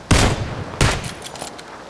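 Two sharp bursts of gunfire ring out in PUBG, fired into a smoke screen, each a loud broadband crack with a short decay, about 0.7 seconds apart and followed by fainter distant shots.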